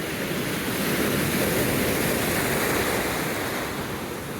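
Rough surf roars continuously onto the beach, a dense, loud wash of breaking water with wind buffeting the microphone, no voices.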